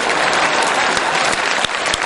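Sustained, loud clapping from a large crowd gathered for a Hindi religious discourse by Vidyasagar Maharaj in Vidisha, dense and continuous with a brief dip partway through.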